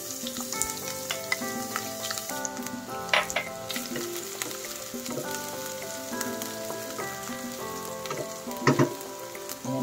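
Onion frying in hot oil in a preheated pan (kawali), a steady dense sizzle running throughout at close range, with occasional sharper crackles and pops, and no talking.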